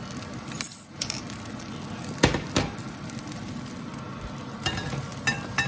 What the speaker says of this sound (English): And I'm just tossing this all around one more time.